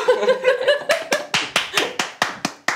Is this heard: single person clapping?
yes